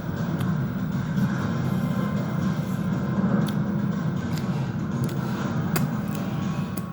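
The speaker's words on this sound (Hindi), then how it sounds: "ये रेलवे ट्रैक पर नहीं चलेगी, बल्कि वैक्यूम ट्यूब में रफ्तार भरेगी, कुछ इस तरह" A high-speed floating train travelling through a vacuum tube gives a steady, loud rushing rumble with a broad, even roar that holds throughout, along with faint periodic ticks.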